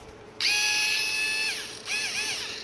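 An Aimsak electric drill whirs loudly with a high motor whine for over a second, drops away briefly, then spins up again in a shorter burst, close and alone.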